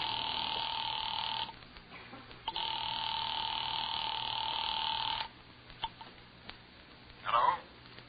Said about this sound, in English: had just dialed the telephone number